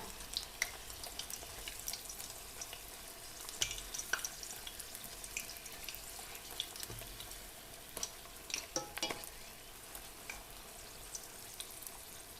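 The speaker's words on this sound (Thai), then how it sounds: "ใบกระเทียมป่าทอดจ้ะชุบแป้งทอดจ้ะ" Battered wild garlic leaves frying in hot oil, a continuous quiet sizzle and crackle with scattered small pops and a few brief louder clicks, steady throughout and without talk.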